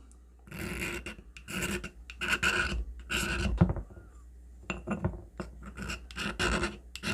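A soft magnesium fire-starter block from a mini survival kit scraped with a striker, giving a series of close, dry rasping strokes in a steady rhythm with short pauses, no talk.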